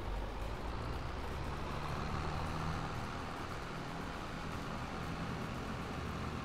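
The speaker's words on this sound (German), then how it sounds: "Also hier unser Sammel-LKW." A collection truck's engine in Farming Simulator 22 drones steadily throughout, a constant low rumble of a heavy vehicle with no talk over it.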